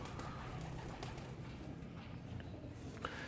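Pigeons at a breeder's loft coo faintly behind a constant hiss of background noise, with soft intermittent calls and small knocks and no clear talking.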